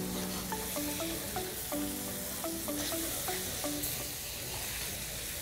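Sausages sizzling and being stirred in a pan, a steady frying hiss with light utensil movements, while tonal beeping notes play over it.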